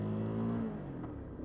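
A motorcycle engine revs briefly while downshifting, a loud steady drone that falls in pitch, close and alone with no talk.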